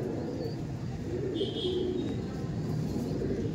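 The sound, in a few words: Pilanka breed pigeons cooing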